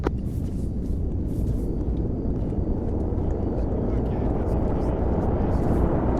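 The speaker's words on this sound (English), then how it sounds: "we got another helicopter south 210 landing" Helicopter flying and coming in to land in a military video game, a continuous dense rotor and engine roar that stays loud and steady throughout.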